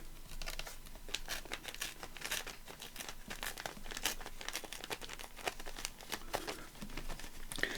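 Rice paper being torn away from a children's book page by hand, a dense run of crinkling, fibrous ripping and crackling bursts continuing steadily up close with no talking.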